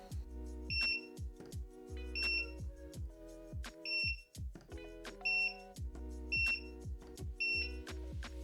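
Loud electronic beeps repeat about once a second, with crackling clicks between them, from a welding rig used to build a DIY 18650 battery pack. No one speaks.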